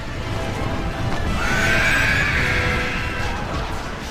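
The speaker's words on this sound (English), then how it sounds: "you can see Theoden riding up in front there on his white horse" A horse whinnies loudly in a Battle for Middle-earth game battle, a rising then falling neigh over a dense, continuous din of hooves and clashing combat noise, with no talking.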